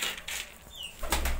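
Pigeons at a nest where one sits on eggs: a brief rustle of wings and a soft coo, quiet and close.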